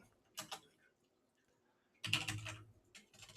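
Computer keyboard keys clatter in two quick bursts as someone types a save-and-quit command in a terminal editor, the first burst short and the second longer and louder, with quiet gaps between.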